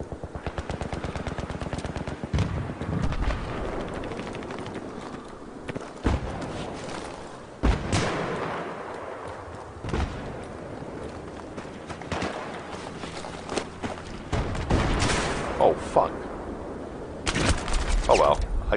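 Automatic gunfire from the video game Battlefield 3, with bursts of rapid shots and scattered single cracks across the clip, loud and close, mixed with other game sounds.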